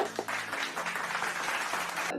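Applause for a podcast guest being welcomed, a steady burst of clapping from a small group that holds at an even level for a couple of seconds.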